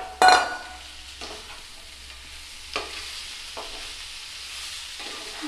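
Fried bhetki fish bones cook with a ground cumin, poppy seed and onion paste, a soft background sizzle broken by a sharp clatter at the start and a few spatula scrapes as the pan is stirred.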